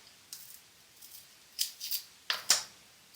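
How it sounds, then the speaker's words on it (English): Several crisp scissor snips while making a replacement lens hood, a few light single cuts followed by a quicker cluster of sharp snips, close up in a quiet room with no talking. "we're going to take the scissors and just cut it off"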